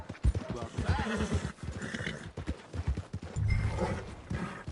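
Horse sounds in the Red Dead Redemption video game, with a whinny and hoof clip-clop near a stable, mixed under a voice and other game sounds.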